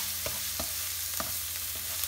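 Ingredients frying over low heat in a pan for Thai stir-fried noodles, giving a soft continuous sizzle with a few quick stirring scrapes at an uneven rhythm, up close.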